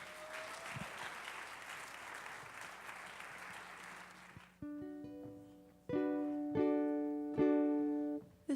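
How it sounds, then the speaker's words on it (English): Audience applause for a singer-songwriter at a Martin Luther King Jr. Day celebration, a steady wash of clapping for about four seconds before it fades out and a piano begins playing chords. "Let's give her a round of applause,"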